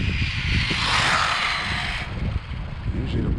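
ECX Circuit 4x4 RC car on a 4S battery, its motor whining steadily and loudly up close for most of the stretch, then easing to a lower drone with background noise.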